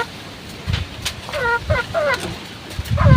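Hen clucking in a short series of soft, rising calls, fairly close and calm, with brief gaps between them and low handling or ground noise underneath.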